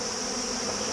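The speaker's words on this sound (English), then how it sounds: "you can see the bees were starting to get a little antsy" Honeybees at an autumn hive make a dense, steady buzzing drone, loud and close, unbroken throughout.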